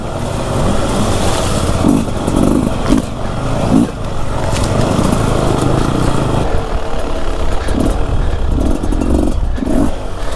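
A 2021 Beta 300 two-stroke dirt bike is ridden on a hill climb track, its engine buzzing loudly and continuously with repeated blips of throttle and revving surges.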